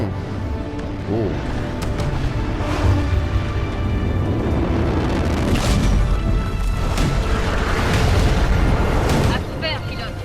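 An explosion blows up a wall in the video game Titanfall 2, a loud burst of booms and crumbling debris layered over ongoing gunfire and battle noise, with voices talking through the game action.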